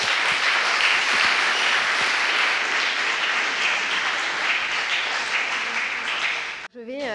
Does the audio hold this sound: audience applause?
yes